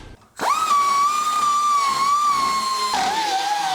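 A rotary file in a power tool hogs out a bolt hole on a 1966 Mustang, starting abruptly as a loud high-pitched whine that holds steady, then dips in pitch under load near the end.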